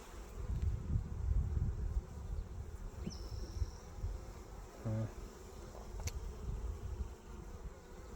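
Bees buzz softly around a backyard feeder outdoors, a faint continuous drone mixed with low wind rumble and occasional small knocks, without any talking.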